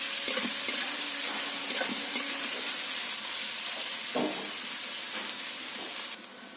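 Sliced onions fry in oil for a mutton dak bungalow curry, a close, loud, continuous sizzle with occasional stirring clatters and scrapes. The sound drops away near the end.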